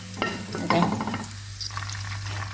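Chopped garlic frying in a pan for Thai egg fried rice, a steady close sizzle with stirring scrapes and clatter, running alone without talk.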